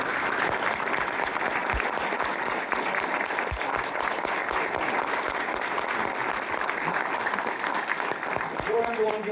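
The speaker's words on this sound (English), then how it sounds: "We'll give them a round of applause for this." A steady round of clapping from an audience at a sheriff and DA candidate forum in a library hall, a dense, even patter sustained for several seconds with a voice faintly underneath.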